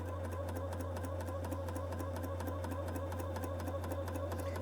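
A BERNINA L 620 coverlock machine runs a narrow cover stitch at stitch length 3 with differential feed at 1, giving a steady, fast mechanical whir with an even rapid needle rhythm and a low motor hum underneath.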